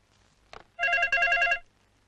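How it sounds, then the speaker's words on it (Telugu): A telephone rings close by, a faint click followed by two quick bright electronic trills back to back, then silence. "రింగ్ అవుతుందిరా"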